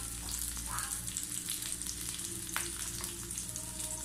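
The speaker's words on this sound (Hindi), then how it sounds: "हरी मिर्ची बस 1-2 मिनट इसको बस लाइट सा फ्राई करें" Green chillies sizzling gently in a pan over low heat, a steady soft crackle and hiss with occasional faint stirring scrapes, no talking.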